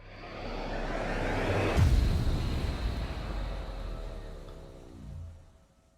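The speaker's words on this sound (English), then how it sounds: "Full riser sounds like this at the moment." A synthesizer riser patch from the VIR2 Instruments Phoenix plays alone, a dense swelling noisy texture with a booming hit near two seconds and pitched sweeping tones that slowly descend before fading out.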